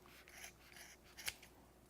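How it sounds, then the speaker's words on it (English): A few quiet snips of scissors cutting through yarn loops, close by, with one sharper clip near the end. "and use a scissors to cut the loops."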